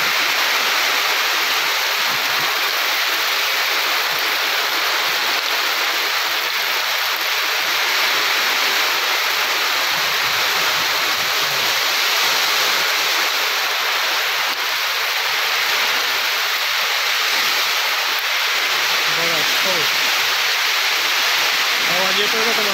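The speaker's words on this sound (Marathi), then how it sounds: "खूप मोठा पाऊस आलेला आहे." Heavy rain pours hard and steady during a soybean harvest, a dense, loud roar of water that never lets up across the whole stretch, with no other sound breaking through.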